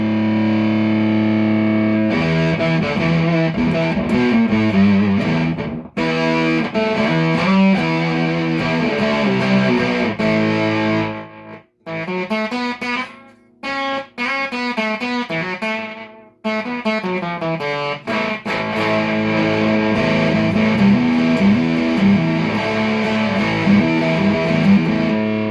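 Distorted electric guitar played through an effects unit, loud and continuous with sustained chords and riffs, a few brief pauses and drops in level.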